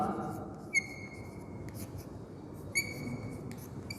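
A quadratic polynomial being written out by hand, with faint pen or marker scratches and a couple of small taps over a low steady room hum, close and quiet, no voice present.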